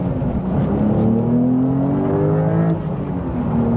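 A 2023 Porsche 911 Sport Classic accelerates hard from inside the cabin, its engine note climbing in pitch, dropping sharply at each quick gear change, then rising again, loud and steady with no talking.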